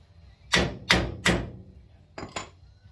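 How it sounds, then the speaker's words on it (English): A hammer strikes a king pin on a Ford Model A front axle, three solid metallic blows at a steady pace, then a pause and two quicker, lighter hits, close and clear. "Just to bottom this out and see if it's going any further when I hammer it."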